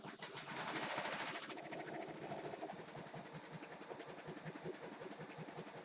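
An Avance 1501C embroidery machine starting up and stitching, with a loud whir at first that settles into a rapid, steady mechanical chatter, heard close and without talk.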